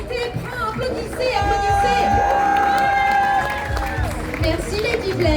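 An audience at an American and classic car gathering in the Gers claps and cheers in a lively burst, while an amplified voice and other voices carry over the crowd noise.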